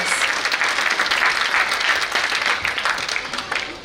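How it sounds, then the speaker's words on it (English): Audience applause at a school annual day celebration, dense and continuous clapping from a large crowd, loud and sustained throughout. "One big round of applause for all unsung heroes and our wonderful performers."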